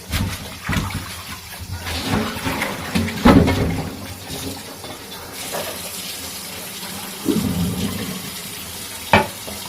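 Water runs from a tap in uneven bursts while young pumpkin leaves are rinsed, with splashes and rustling handling noises, close by.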